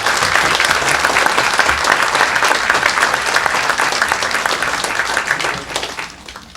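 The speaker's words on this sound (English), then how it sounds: "So if we could give them a round of applause." A steady, full round of applause from an audience at a city reorganization meeting, dense and sustained clapping that holds for several seconds before tapering off at the end.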